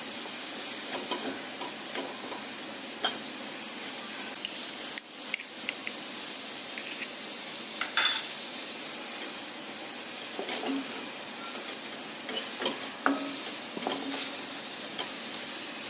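Onions and spices for a Punjabi mutton curry sauté in a pan, giving a steady, close sizzling hiss with faint scattered clicks from stirring and no talking.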